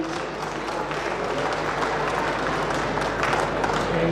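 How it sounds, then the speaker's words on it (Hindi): Steady applause from an audience at a political welcome ceremony for party officials, a continuous even wash of clapping held at a constant level with no break. "तालियों की गड़गड़ाहट लगातार होती है।"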